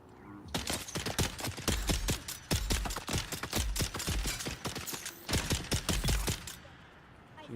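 Rapid bursts of video game gunfire crackle almost nonstop for several seconds, dense repeated shots with only brief gaps, loud and close, no talk over them.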